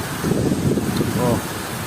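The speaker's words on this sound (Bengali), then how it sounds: "সাধারণত ঘূর্ণিঝড় বাতাস।" Strong cyclone wind tears through coconut trees around a school building in rain, a loud, steady, close roar of rushing air and thrashing leaves lasting the whole moment.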